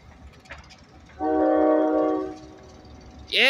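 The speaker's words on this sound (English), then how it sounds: "Yeah, blow that horn!" Ohio Central Super 7 locomotives 4095 and 4096, running light through Newark Yard, sound a loud chord horn in one sustained blast of about a second, followed by the start of another blast.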